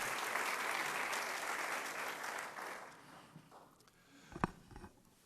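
A college audience at a fall state-of-the-college address claps in a broad, fairly distant round that tapers off over about three seconds, leaving a quiet room with a few faint shuffles and knocks.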